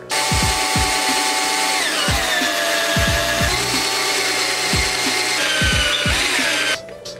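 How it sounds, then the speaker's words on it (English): A power drill whines steadily at high pitch, drilling holes in piston figures, its motor dipping as it bites, with repeated thumps and clunks of the bit working through material. "let's get to this drilling"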